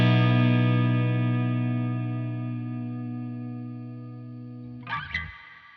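Distorted electric guitar through free amp plugins, with two cabinets panned hard left and right, sounds one sustained chord that slowly decays, then a brief scrape of strings at the end.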